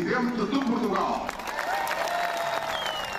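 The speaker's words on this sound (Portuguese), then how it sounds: "Foi o maior aplauso do ato central das comemorações dos 50 anos de Angola independente" Applause from a large crowd at the central ceremony marking 50 years of Angolan independence, greeting the President of Portugal; dense clapping with some cheering sustains steadily throughout, with voices mixed in.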